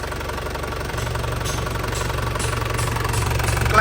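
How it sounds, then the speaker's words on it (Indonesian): A warm 2003 Isuzu Panther LS diesel engine idles steadily, with a close, continuous low knocking rumble and even rhythm throughout, no voices. "Kondisi mesin posisi udah panas ya"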